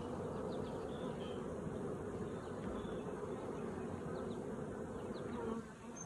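Honey bees swarm around an open hive during an apiary inspection, a dense continuous buzzing hum with individual bees droning past close by, steady throughout with no speech.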